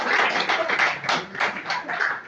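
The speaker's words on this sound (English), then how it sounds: "Let's give him a round of applause." An audience at a healthcare talk gives a brief round of applause, a short burst of dense, close clapping lasting about two seconds.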